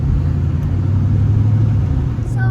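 A 2004 Pontiac GTO engine running close by, a steady loud low rumble with a throaty idle-like drone and no clear rises in pitch, heard alone.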